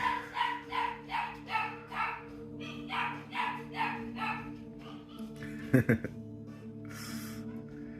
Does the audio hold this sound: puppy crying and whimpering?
yes